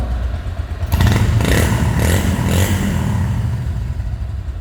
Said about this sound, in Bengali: শুধুমাত্র সাইলেন্সারের আওয়াজ পাবেন